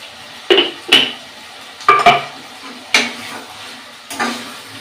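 Mutton and potato curry being stirred in a pan with a metal spoon, giving about five separate scraping, clinking strokes against the pan at an uneven pace, fairly close and loud. No one speaks.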